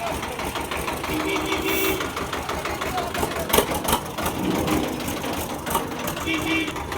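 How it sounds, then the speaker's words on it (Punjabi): A tractor engine chugs steadily close by with a rhythmic knocking idle as it reverses to be hitched for towing another tractor, while indistinct voices and outdoor noise mix in. "ਲਓ ਜੀ ਟਰੈਕਟਰ ਹੁੰਦਾ ਪਿਆ ਬੈਕ ਜੀ"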